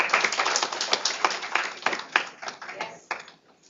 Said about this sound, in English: give the whole college and all the people who have taken that initiative a big round of applause